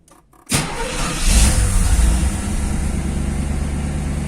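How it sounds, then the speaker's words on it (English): A Firebird Trans Am V8 cranks and starts after a short quiet pause, then surges and settles into a loud, steady close-up idle rumble, with no talking. "I'm just gonna start it up and see what's happening"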